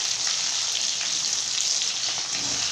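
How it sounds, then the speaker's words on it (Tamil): Garlic and other ingredients sauté in oil for a thuthuvalai kulambu, giving a continuous bright, rain-like sizzle with fine crackling, steady and close throughout with no voices. "இப்போ இது எல்லாமே சேர்த்துட்டு நம்ம இந்த மாதிரி ஆயிலில் வதக்கிக்கிறேன்."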